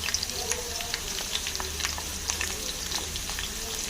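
Potatoes frying in a pan with turmeric, steady sizzling and crackling with scattered pops and occasional stirring scrapes, close and moderately loud.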